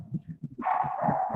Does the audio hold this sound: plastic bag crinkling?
no